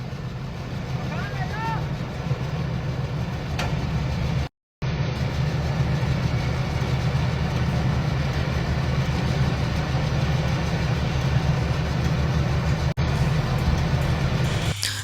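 A tractor engine drones steadily at low pitch, straining to pull an overturned trolley free, a continuous loud rumble with one brief dropout and voices faintly beneath it.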